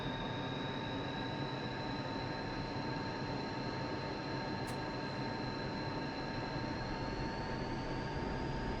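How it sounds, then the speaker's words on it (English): Inside the cockpit of a MiG-29 jet in the DCS flight simulator, a loud, constant broadband engine roar with a steady high whine runs unbroken throughout, with no voices over it. "I really do love the in-cockpit sounds for the MiG-29."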